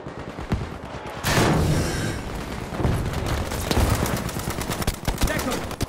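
Loud, dense battle noise from Battlefield V, with a heavy blast-like burst near the start and rapid gunfire rattling throughout, thick and sustained with no pause.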